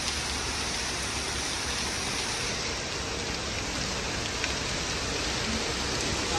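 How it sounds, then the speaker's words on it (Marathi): Steady rain falls outdoors in a village setting, a dense even hiss with fine patter spread across the whole stretch, constant and close with no voices. "आम्ही आता पावसामध्ये बाहेर निघालोय"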